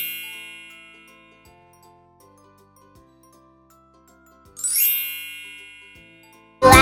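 Bright bell dings ring out as a sound effect, a tinkling chime at the start and another burst of jingling near the end, with soft repeated tones between.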